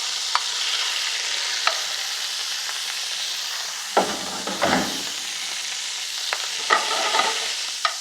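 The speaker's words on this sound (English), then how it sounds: "There's the oil creeping in the pan and just beginning to smoke a little bit." Shrimp frying in hot, lightly smoking oil in a pan, a loud continuous hiss with bursts of crackling and spatter, a few sharp utensil knocks.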